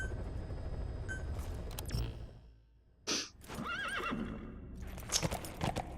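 In the game Metal Gear Solid V: The Phantom Pain, the horse D-Horse whinnies loudly over steady clip-clopping hooves, with a brief pause and then more hoofbeats, close and alone without talk.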